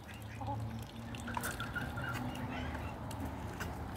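Ducks quack softly and intermittently nearby at feeding time over a steady background hum, with faint water sounds.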